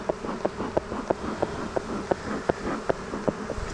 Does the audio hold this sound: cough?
no